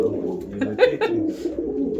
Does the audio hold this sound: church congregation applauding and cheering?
no